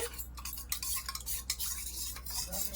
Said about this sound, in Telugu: ఇప్పుడు మనం ఇందులో కొద్దిగా వాటర్ తీసుకొని కస్టర్డ్ పౌడర్ కొద్దిగా కలుపుకుందాం